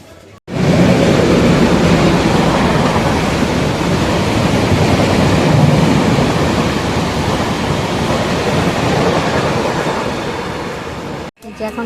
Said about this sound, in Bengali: এখন খড়গপুর স্টেশনে দাঁড়িয়ে আছি।